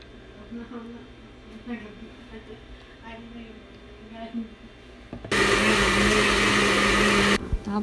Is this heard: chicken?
no